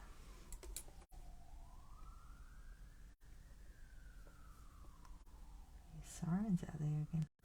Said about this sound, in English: Sirens out there again.